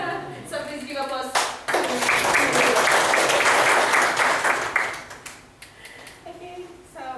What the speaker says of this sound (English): So please give applause